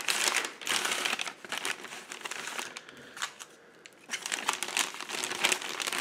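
Plastic MRE flameless heater bag crinkles and rustles while beef ravioli is heating, close and busy handling with bursts of crackling, a quieter pause midway, then more crinkling.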